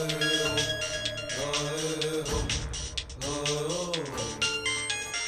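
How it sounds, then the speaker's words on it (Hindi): A phone ringtone plays a repeating melodic tune for several seconds, ringing steadily and clearly with no voices over it. "फोन उठाओ वरुण, फोन उठाओ।"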